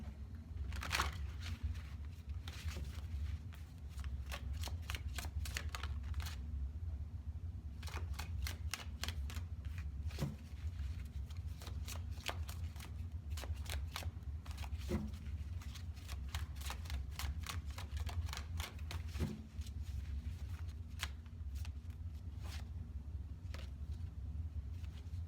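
Tarot cards being shuffled by hand in a steady run of crisp riffling clicks and snaps for the whole stretch, fairly close, over a constant low hum, with no talking.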